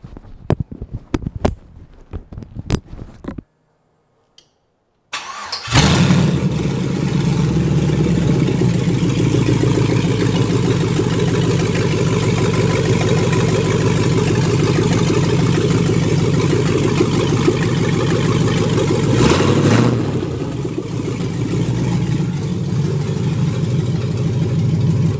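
An LS-swapped 1988 Chevrolet Monte Carlo fires up after a few seconds of clicks and quiet, then settles into a loud, steady, rumbling idle close by, with a brief rev near the end.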